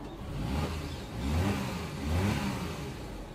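A 1991 Suzuki Jimny Turbo 4WD runs close by, its small engine idling with a low steady hum that swells in two or three gentle revs and settles back, with no talking over it.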